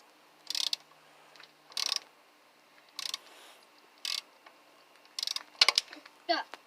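A ratchet wrench works on a Chevy 350 engine during a freeze plug replacement, clicking in short, sharp bursts of rapid pawl ticks, close and clear, repeating every second or so.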